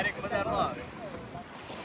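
A boat pulls away from an island shore out on the open ocean. It makes a low, distant rumble under wind and water noise, with faint voices near the start.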